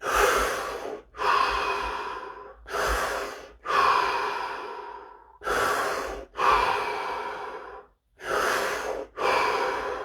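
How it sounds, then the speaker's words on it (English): Five deep breaths taken during a guided breathing exercise, each a long audible inhale followed by a long exhale with short pauses between, close and steady, with no talking. "We're going to take 5 deep breaths"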